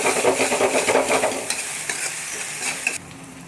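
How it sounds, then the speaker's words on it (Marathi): Finely chopped tomato sizzles in hot oil for dal while a spoon stirs and scrapes the pan, steady frying crackle with rhythmic stirring that stops abruptly near the end. "आता त्याच्यामध्ये एक मोठ्या आकाराचा टोमॅटो असा बारीक चिरलेला फ्राय करून घ्यायचा आहे।"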